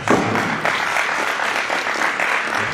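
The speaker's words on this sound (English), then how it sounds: "please give them a round of applause." An audience at a high school football signing day event claps and applauds steadily, a dense crowd of hand claps filling the room.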